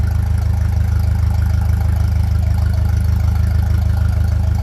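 A 1957 Ferguson 35 tractor with a TVO engine idles close by, a steady, loud low-pitched chugging with an even rhythm that holds throughout, with no talking.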